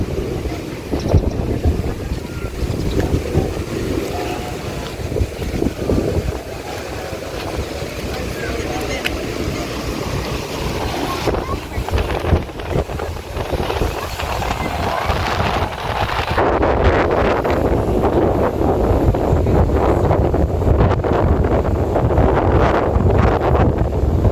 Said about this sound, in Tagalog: Lakas lang ng hangin.